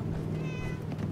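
A cat in the game Fallout 4: Far Harbor lets out a single short, close meow with a rising-and-falling tone over a low background hum.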